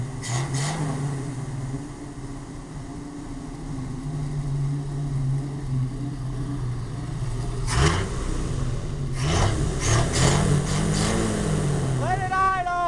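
A 1968 Ford engine with freshly fitted points runs steadily at idle in the rain, a low even rumble throughout, with a couple of louder revs and voices talking briefly near the end.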